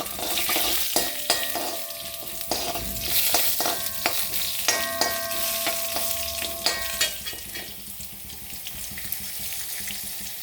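Urad dal and a dried red chilli frying in hot oil after mustard seeds have popped, a steady close sizzle with intermittent metallic scrapes and stirring clinks over about ten seconds.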